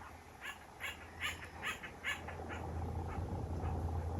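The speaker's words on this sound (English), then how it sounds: "The woodpecker's coming through strong." A woodpecker outdoors taps or calls in a short run of sharp evenly spaced bursts, fairly faint and somewhat distant, fading out against a steady low background hum.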